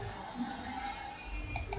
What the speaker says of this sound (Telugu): నెక్స్ట్ క్లిక్ చేయండి, ఇన్స్టాల్ క్లిక్ చేయండి